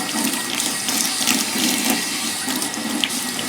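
Steady stream of hot water running from a tap, used in cleaning a 1959 Axeman Anderson 130M, a constant broadband rush close by with no talk over it.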